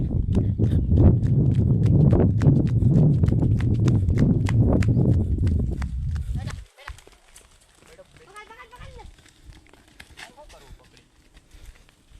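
A mare's hooves clip-clop in a quick, steady rhythm, close and loud for several seconds before stopping abruptly, leaving quiet outdoor background with faint voices.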